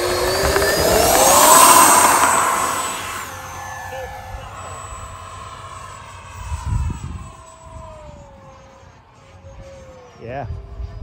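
Freewing F-35 70mm electric ducted-fan RC jet on its maiden flight, a loud rising whine as it passes close, then fading into a distant hum as it flies away, with voices talking nearby.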